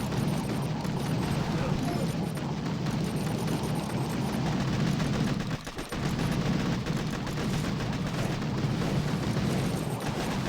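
Continuous rumbling barrage of artillery and mortar fire in a video game battle, dense and steady throughout with one brief dip, heard under a commentator's talking.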